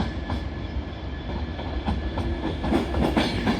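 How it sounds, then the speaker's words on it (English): Avanti West Coast Class 390 Pendolino electric train arriving at Carlisle on the West Coast Main Line, a steady rumble with rhythmic wheel clicks over rail joints growing slightly louder, no voices. "Arriving in now, yet again, is another Avanti West Coast Class 390 Pendolino"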